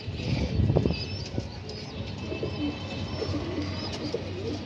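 Pigeons in a coop coo near the mic with soft, repeated throaty calls over a constant background drone, and a few faint chirps and rustles come through.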